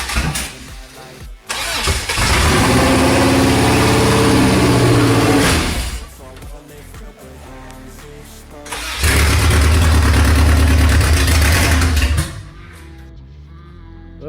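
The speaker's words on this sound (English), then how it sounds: "first time trying to see if this motor cranks" Subaru Legacy EJ22 engine cranking over loudly in two long bursts, each lasting several seconds with a steady churning starter rhythm, separated by a brief pause and followed by quiet.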